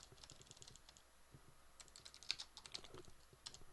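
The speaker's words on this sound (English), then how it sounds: "I'm not typing very accurately today." Fingers tap on a computer keyboard in quick irregular bursts with short pauses, close and fairly quiet, no voices.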